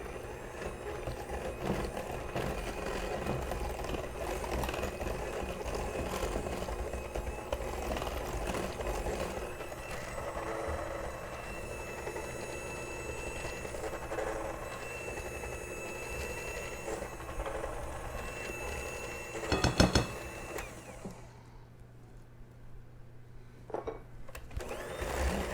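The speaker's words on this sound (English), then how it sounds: "And you're gonna cream the sugar and the oil and the butter together." An electric mixer whirs steadily as it creams sugar, oil and butter together, a continuous motor hum heard alone for most of the time. It cuts out near the end, leaving a few faint knocks.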